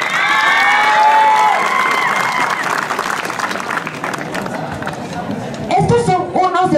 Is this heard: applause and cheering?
yes